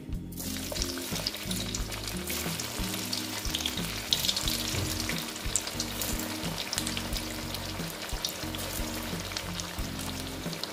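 Flattened rice and potato snacks deep frying in hot oil, with a loud, steady, dense sizzle that runs unbroken throughout and no voices.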